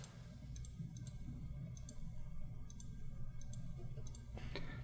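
Computer mouse clicks while a selection is drawn in Photoshop, crisp close taps arriving in short pairs and small clusters at irregular intervals over a low, quiet room hum.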